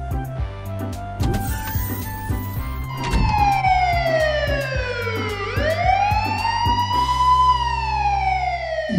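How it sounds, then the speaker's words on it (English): A police car siren wails loudly in a long sweeping rise-and-fall tone over bouncy nursery-rhyme music, alone without any voices. "Police car."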